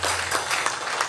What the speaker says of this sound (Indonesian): Berikan tepuk tangan buat Tuhan kita Yesus.